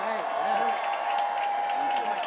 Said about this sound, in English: How about another round of applause for all of them?